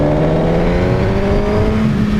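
Suzuki GSX-R1000R sport bike engine revving steadily at high rpm but held flat by traction control, a loud continuous drone with no speech.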